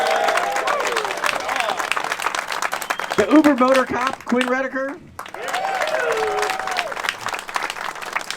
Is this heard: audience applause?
yes